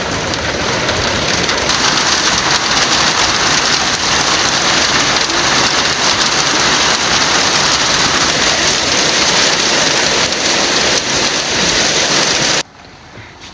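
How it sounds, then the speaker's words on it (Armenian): Heavy rain pours down right after a brief hailstorm, a loud, dense, continuous roar of drops on surfaces that stops abruptly near the end. "մի քանի հատ բարակ կարկուտ խփեց, ոնց որ թե անձրև ա դառնում"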